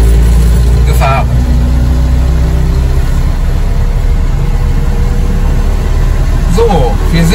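A 1955 Goliath Goli runs while driving on a delivery trip, its engine a loud, steady low drone that stays close throughout, with someone talking over it.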